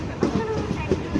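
A train running on railway tracks near a station on the Mangalore–Chennai line, with a steady rumble and faint rhythmic clicks of wheels over rail joints, heard close and continuous over this short stretch.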